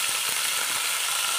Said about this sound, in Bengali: এবার এই যে করলাগুলোকে ভেজে নেব।